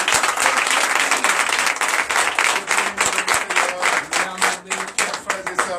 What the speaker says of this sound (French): Merci Seigneur, donnez l'acclamation.